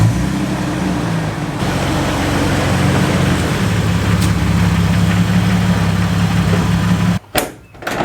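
A Jeep TJ idling close by, a steady low engine rumble that runs evenly for most of the stretch before breaking off into a few sharp knocks and a brief dropout near the end.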